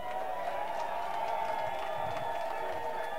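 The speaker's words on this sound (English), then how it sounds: "Can I get a round of applause for Kabuye Boston" Crowd applause at an indoor gathering in Boston for a political speech, a steady wash of clapping and murmuring that holds evenly throughout the short stretch, with no voice rising above it.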